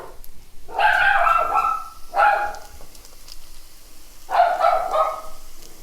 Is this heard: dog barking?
yes